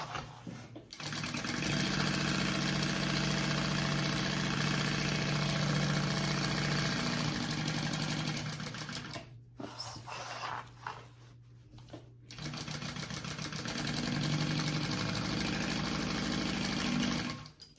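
A sewing machine bastes pocket fabric layers together for a crossbody bag, running in a fast, continuous mechanical whir with two brief pauses partway through, then resuming at a steady pace. It is close and alone, with no talking.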